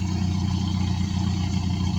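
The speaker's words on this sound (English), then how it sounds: "You can hear the exhaust from here." Exhaust of a 2013 Toyota Fielder with a 1.5-liter engine, idling nearby: a steady, low, even rumble with a faint pulse and no revving.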